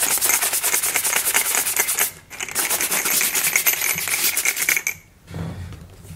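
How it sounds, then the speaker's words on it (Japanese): A brush works cream into leather shoes with quick, rhythmic back-and-forth scrubbing strokes, close and crisp, pausing briefly twice before a softer final rub. "ブラッシングして"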